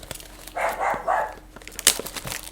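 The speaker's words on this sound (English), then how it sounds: "So they bark at anything that goes by the house" Pet dogs indoors at a house let out several sharp barks in short bursts, moderately close, followed by a few quicker yips and some faint background noise; nobody speaks.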